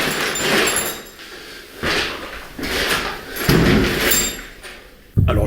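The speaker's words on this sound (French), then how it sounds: "on dirait vraiment un coup qui est porté sur une porte" Heavy, powerful knocks strike a door during an urban exploration and paranormal investigation, landing as several loud, booming thuds spaced a second or so apart with dull reverberant gaps between them.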